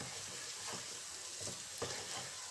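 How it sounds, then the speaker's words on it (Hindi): Moong dal halwa with dry fruits stirred in a frying pan, a soft steady sizzle running throughout with a few scraping stir strokes, close and moderately quiet. "अब हम इसमें ये खुश्क मेवे शामिल करेंगे, जो इसे अच्छे से मिक्स करेंगे"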